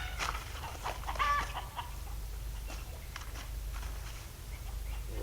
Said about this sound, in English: Why the chickens are excited.